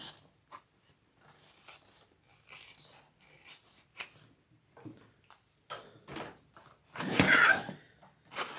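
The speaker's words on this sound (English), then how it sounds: "And I do need to trim down that seam allowance because it's bigger since I went bigger on the lining." Scissors trimming the seam allowance on a handbag lining, a series of quiet, sparse snips and rustles of fabric up close, with one louder cut near the end and no talk.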